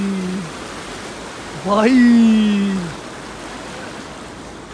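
A river near a campsite on the Srinagar to Sonamarg route gives a constant rushing hiss of flowing water, while someone speaks briefly over it.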